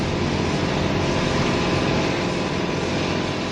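Military helicopters carrying an assault wave lift off during the Vietnam War in 1966, a loud, steady roar of rotors and engines filling the scene without a break.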